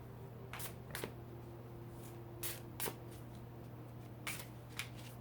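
Tarot cards are shuffled by hand in a quiet room, with a handful of short riffling bursts spaced irregularly over a steady electrical hum.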